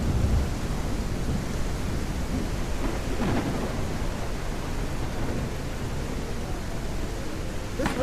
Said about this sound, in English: This rain would really suck if I had a shirt on.